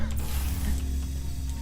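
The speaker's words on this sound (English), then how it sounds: "That's the sound of the neurotoxin emitters." Neurotoxin emitters in the video game Portal 2 make a mechanical whirring and grinding hum, steady and fairly loud with a low ratcheting drone, and no voices.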